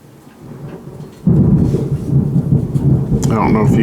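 Thunderstorm outside with a deep rolling rumble of thunder swelling loudly after a quiet start, over a steady hiss of rain, heard from indoors.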